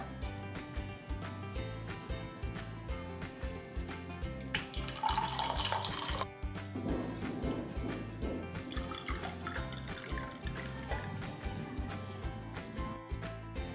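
Sol kadhi, a chilled kokum and coconut drink over ice, is poured into two glasses at close range, giving a soft trickling stream in two bursts against a quiet kitchen background with faint music.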